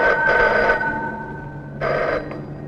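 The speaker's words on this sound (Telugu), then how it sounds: "ఎంకో ఫోన్ సార్." A telephone bell rings in two bursts separated by a pause, each a bright, sustained trilling ring in a quiet room.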